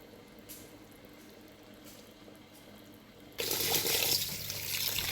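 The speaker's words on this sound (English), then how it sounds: "I'm washing my rice. You can wash your rice 3 or 4 times because you want the water to get clear." Faucet water runs into a kitchen sink while rice is rinsed for Jamaican rice and peas, quiet at first and then switching to a louder, fuller gushing stream for the last couple of seconds.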